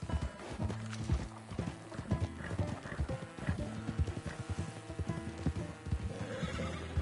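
Horse in the Red Dead Redemption 2 video game clip-clops steadily at a walk, with rhythmic hoofbeats throughout and a whinny mixed in; close and fairly quiet.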